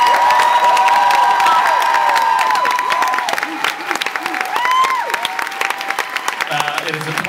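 Audience applauding and cheering for a live music act, a loud, dense crowd clapping that gradually thins over several seconds, with scattered shouts and some talk mixed in.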